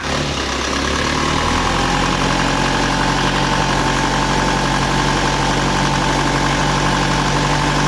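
An Isuzu TFR pickup truck engine with 509,783 km revs loud and close with the hood shut, a constant rumbling drone that holds level throughout without any pause.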